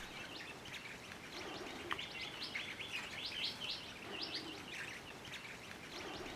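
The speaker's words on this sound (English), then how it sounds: "Mulga parrots are one of Australia's most spectacular parrot species." Mulga parrots calling in the Australian outback give faint, repeated high chirps in short bursts over a steady background hiss.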